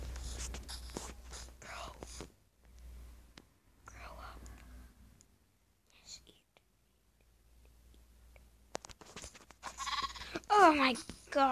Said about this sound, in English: There's one more sheep.